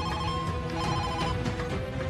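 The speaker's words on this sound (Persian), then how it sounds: "این تلفن رو جواب بده، جواب بده این تلفن رو." A telephone rings indoors in a domestic drama scene, a continuous loud electronic ringing tone that fills the clip without pause and with no voices over it.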